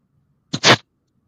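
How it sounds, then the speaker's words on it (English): A single sharp sneeze, close and loud, with a quick intake burst followed by the explosive release, alone in an otherwise quiet moment. "I thought you sneezed."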